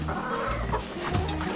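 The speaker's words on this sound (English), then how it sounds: "The chickens are in my way." Several chickens cluck and murmur close by, a busy, continuous chorus of short clucks.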